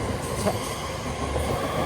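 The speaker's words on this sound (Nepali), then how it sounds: "भाउ ट्रेन गयो" A train rumbles past nearby in a continuous, broad roar of wheels and carriages, steady and fairly loud over the whole moment.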